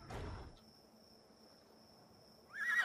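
A horse in the video game ARK neighs at the end, a brief whinny with a wavering pitch that follows a short thump and a quiet stretch with a faint steady tone.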